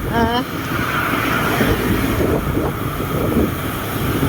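Strong wind buffets the microphone during a ride from Pagudpud, a loud, continuous rumbling roar, with a brief voice at the very start.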